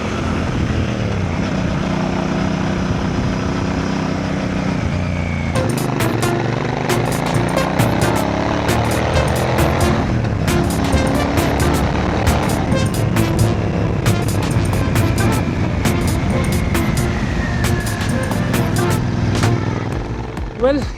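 A Royal Enfield Bear 650 twin-cylinder motorcycle with a stock exhaust idles and revs, its deep throbbing note rising and falling, loud and close, with sharp clicks scattered over it.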